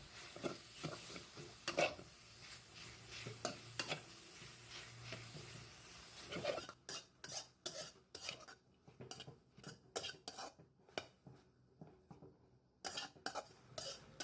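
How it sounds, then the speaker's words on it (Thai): Minced pork is stir-fried in a pan, a soft sizzle sounding under irregular scraping and clinking of a utensil against the pan, quieter and more sporadic in the second half. "จากนี้นำหมูสับมารวน"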